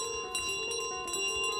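A bell rings in Untitled Goose Game, with steady ringing tones and several fresh strikes across a short stretch, clear and close with no talk.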